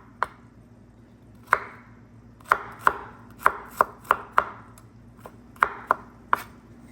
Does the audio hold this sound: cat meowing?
no